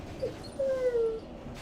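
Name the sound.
dog whimpering and yipping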